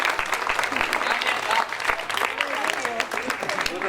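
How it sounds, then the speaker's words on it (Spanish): An audience at an outdoor storytelling event claps in a short, dense burst of applause lasting a few seconds, with voices and cheers mixed into the clapping. "Un aplauso"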